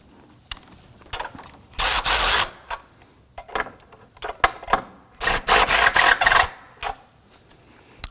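A ratchet tightening the battery hold-down on a 2005-2009 Subaru Legacy, heard as loud, close bursts of rapid clicking in several runs with brief pauses and lighter mechanical taps between them.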